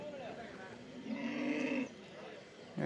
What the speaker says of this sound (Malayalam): പോത്ത് കുട്ടികളാണ് നിൽക്കുന്നത്